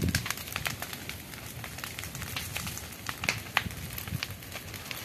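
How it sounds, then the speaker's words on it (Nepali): Fire burning off weeds and brush in a village farm field in Nepal, a steady low crackling roar with scattered sharp pops and snaps, close by, no talking. "झार जङ्गलहरू सैतेर बारीमा मजाले आगो लगाइरहेको छ"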